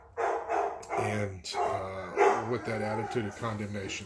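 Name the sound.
dogs barking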